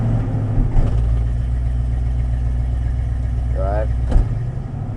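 A Ford car with a new carburetor runs steadily after a cold start, a continuous low engine drone close by with a couple of faint clunks.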